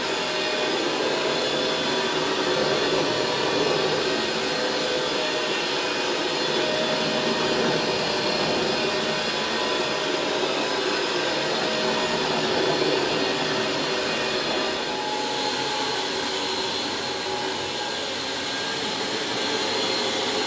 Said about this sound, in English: you let off the water and do a vacuum only dry pass